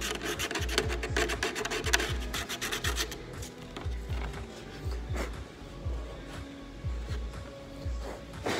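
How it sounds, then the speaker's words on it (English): Paint is scraped off a Tamiya Ferrari 458 Italia RC car body in quick, repetitive close-up rasping strokes, busier at first and then slower and more spaced out. "Trying not to scrape the paint out of here"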